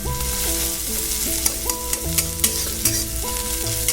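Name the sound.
onions frying in a pan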